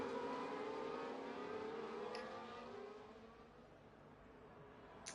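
Race car engines in the F1 24 video game during a battle between a Sauber and a McLaren, a high whining engine note that sweeps down and fades, with a brief sharp burst near the start and another at the end.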